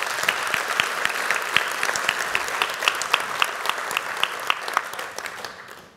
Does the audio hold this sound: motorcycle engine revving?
no